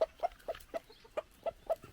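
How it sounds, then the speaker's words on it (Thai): Chickens on a farm in Norway cluck in a quick, regular series of about eight short calls, close by and clear, with no talk over them. "พามาชมไก่อยู่ในนอร์เวย์จ้ะพี่น้องจ๋า"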